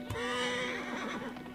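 A horse in the video game Assassin's Creed Origins gives a single loud, clear whinny lasting over a second, close by and alone, with no talking over it.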